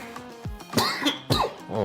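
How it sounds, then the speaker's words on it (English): A person coughing in a podcast setting, a burst of several harsh, close coughs with throat clearing in quick succession, loud and with no talk over them. "Caught a coughing spell."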